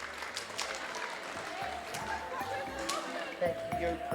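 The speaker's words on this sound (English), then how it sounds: "Give them a round of applause, ladies and gentlemen." Audience applause for young farmer shearers at the 60th-anniversary Golden Shears, a steady patter of clapping that sits beneath a voice talking over it.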